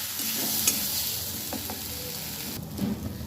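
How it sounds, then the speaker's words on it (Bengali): Masala with turmeric fries in a pan for a vegetarian spinach dish, giving a close, steady sizzle broken by a few distinct scrapes and clinks of stirring. "আমি মশলাটা খুব সুন্দরভাবে কষিয়ে নেব"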